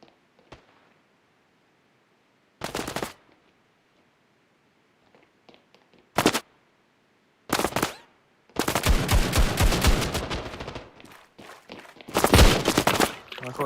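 Bursts of Desert Eagle pistol fire in the mobile shooter Standoff 2, sharp loud shots in separated clusters with a long dense volley near the end, with faint rustling between.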